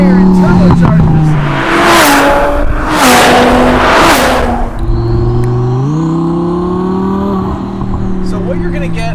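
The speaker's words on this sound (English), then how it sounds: "Just an orchestra of air and fuel and combustion and fire and turbochargers." Twin-turbo Hennessey HPE900 Audi R8 engine revving hard in loud, sweeping bursts with turbo whoosh, then settling to a steady drone with shifting pitch; a voice talks over part of it.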